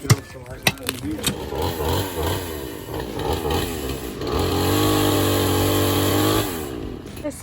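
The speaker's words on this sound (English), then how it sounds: "We're gonna have to get a better chainsaw." A chainsaw engine revs and snarls while cutting a small tree branch, rising to a steady loud whine, then drops off near the end, with voices talking over it.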